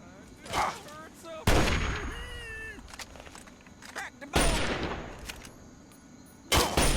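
Double-barrel shotgun blasts in the video game Fallout 3, three loud booming shots spaced a few seconds apart over game ambience, with a short voiced sound between them.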